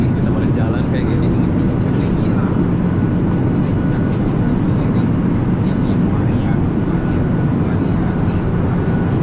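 Steady, loud broadband roar of an airliner cabin in cruise on a flight from Batam to Pontianak, a constant engine and airflow drone filling the whole stretch, with faint voices audible beneath it.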